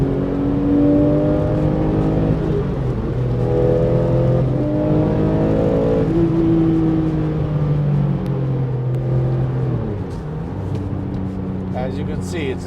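A 2004 Porsche 911 (996) GT3 RS engine drones steadily from inside the cabin, rising and falling in pitch as it revs through gear changes, with talk over it.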